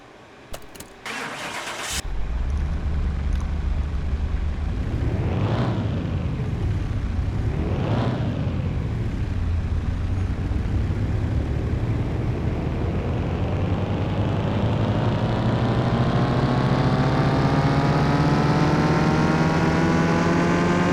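Mitsubishi Eclipse engine cranks and fires, then revs hard to full throttle twice in rising-and-falling sweeps before holding a loud, sustained high-rpm roar that climbs steadily, close and alone without talk.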